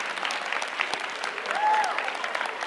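Audience at a stand-up comedy show claps in a thin, scattered patter, moderately quiet, with a brief whistle rising partway through.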